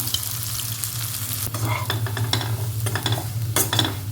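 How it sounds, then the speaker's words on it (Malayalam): Ground coriander, chili, turmeric and a little fenugreek powder fry in a pan over a low flame, giving a steady close sizzle broken by bursts of scraping and stirring. "മല്ലിപ്പൊടി മുളക് പൊടി മഞ്ഞൾപ്പൊടി കുറച്ച് ഉലുവാപ്പൊടി കേട്ടോ ഇട്ട് കൊടുക്കാം"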